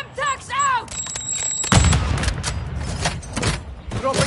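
Semtex grenade explosion in a video game, a single loud boom bursting out partway through, followed by a sustained rumbling tail and scattered crackles, with short voice calls and beeping tones before it.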